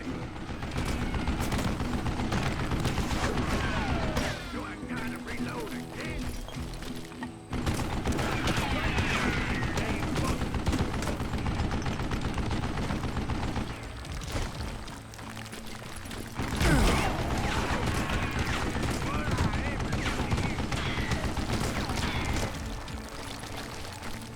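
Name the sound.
gunfire from a mounted gun in video game Call of Juarez Gunslinger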